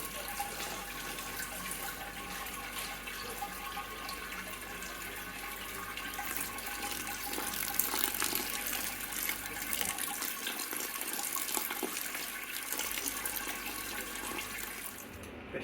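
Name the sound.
brewing water poured from a jug into a pan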